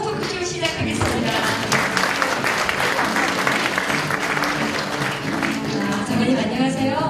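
A large audience claps loudly and continuously to open a talk show at an event for young farm successors, a thick, unbroken wash of applause with voices mixed in.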